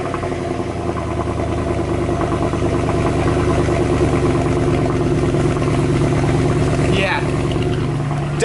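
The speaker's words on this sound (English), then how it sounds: "I want you guys to hear how this car sounds on a cold start" A Mercedes W204 C63 V8 engine on a cold start, settling into a loud, steady, deep idle that drones continuously with a faint high whine near the end.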